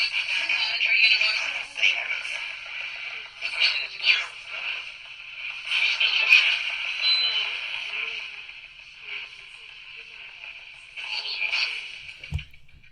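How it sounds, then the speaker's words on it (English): A spirit box radio sweeping through stations on a slower setting gives a continuous band of choppy, hissy static with brief bursts and fragments, steady and fairly loud throughout, ending with a low thump. "I change the settings on the spirit box"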